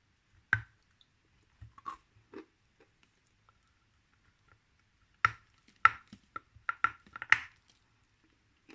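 Someone biting off and chewing a dense, stone-like piece of grey Bashkir clay, heard as sparse, close crunchy clicks, then a quick burst of crunching bites in quiet surroundings.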